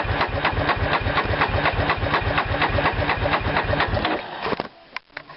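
A 2006 Yamaha Raptor quad engine cranks steadily with a fast, even chugging rhythm for about four seconds, then stops, leaving a few faint clicks and knocks.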